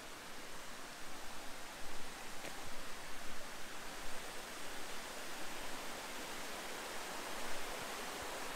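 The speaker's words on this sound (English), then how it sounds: "and here's Fumi Falls." Fumee Falls, a small waterfall on Fumee Creek at a roadside park near Iron Mountain, Michigan, pours in a steady, even broadband rush, moderately distant and unbroken, with no voices over it.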